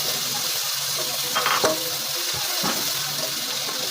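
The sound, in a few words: onion and garlic frying in oil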